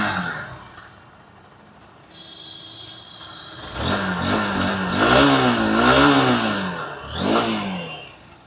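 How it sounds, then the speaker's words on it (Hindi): A Honda motorcycle, likely a Unicorn 160, starts and idles, then its engine is revved in several rising and falling swells with a throaty exhaust note, close by and fairly loud, with no talking. "आइए इस मोटरसाइकिल को अब स्टार्ट कर लेते हैं। इंजन साउंड सुनाता हूँ, एग्जॉस्ट साउंड सुनाता हूँ।"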